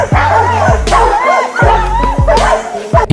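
Dogs bark repeatedly at a warthog in the wild, loud close woofs in uneven bursts with yips and whines between them.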